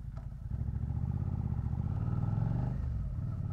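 Suzuki SV650 X motorcycle climbing the Castellet hill, its engine droning steadily and building in revs as it accelerates, heard up close with wind and road rumble.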